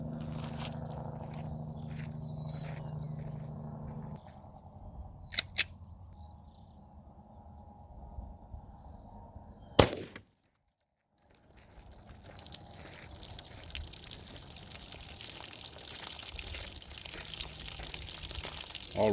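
A Glock 31 fires a .357 SIG round into ballistics gel from 15 feet, one sharp, loud crack standing out from quiet surroundings, followed by a brief dropout and then a noisy ringing tail.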